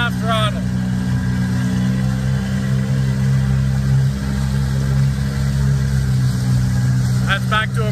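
Mercury 9.9 outboard motor running steadily at half throttle on a 9-foot Achilles dinghy with hard fiberglass floor, a continuous loud drone with brief voices near the start and end.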